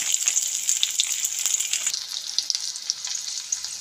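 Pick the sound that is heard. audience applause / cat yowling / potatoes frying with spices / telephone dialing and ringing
potatoes frying with spices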